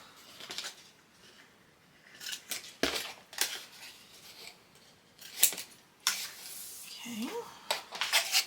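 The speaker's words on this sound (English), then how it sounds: "we're just going to miter all the way around to get those corners cut out of our cardstock" Scissors snip around the corners of cardstock, mitering each one in separate short, crisp cuts with quiet pauses between, close and fairly soft.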